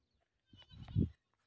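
A herded goat gives a single short bleat, faint and close, in an otherwise quiet setting.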